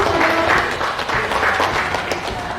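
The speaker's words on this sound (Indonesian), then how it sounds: "Kita berikan tepuk tangan dulu." An audience at a school teachers' sharing forum gives a burst of applause, a loud, dense wash of clapping with some murmuring voices underneath.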